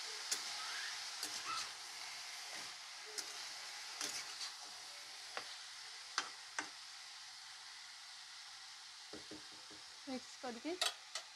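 Mixed vegetables with turmeric fry in a pan at home while a spoon stirs them, giving a soft continuous sizzle broken by repeated clicking scrapes that cluster more densely near the end.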